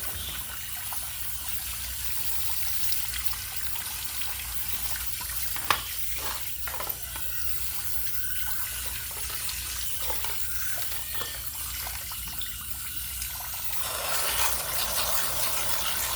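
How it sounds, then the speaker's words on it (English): Aquarium filter rocks are rinsed under a running tap, with water flowing steadily and splashing softly in a sink close by, growing slightly louder toward the end. "You can just rinse through them really quick."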